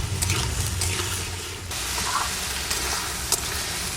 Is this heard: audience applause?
no